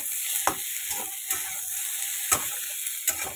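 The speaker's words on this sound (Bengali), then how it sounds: "এবার আলুগুলো দিয়ে দিলাম, ভালো মতো এগুলোকেও ভেজে নেব।" Potatoes fry in hot oil after eggplant, a steady bright sizzle from nearby with short scraping knocks of a spatula every half second or so, no voices.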